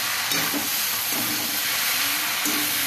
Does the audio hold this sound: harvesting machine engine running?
no